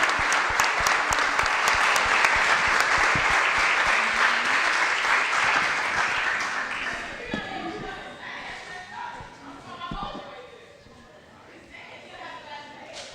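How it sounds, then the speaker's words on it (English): Audience applause for a panel at a rights and justice conversation on women's rights and gender equality, dense clapping for about six seconds that thins into scattered claps and fades under a few voices. "Can I get a round of applause for our panelists?"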